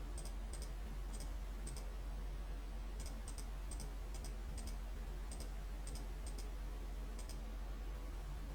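Mouse buttons tapped on a calculator form in an Excel sheet, giving sharp, light double clicks at irregular intervals, faint against a quiet background hum.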